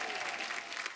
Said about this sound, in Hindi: एक बार जोरदार तालियां हो जाएं सिद्धार्थ के लिए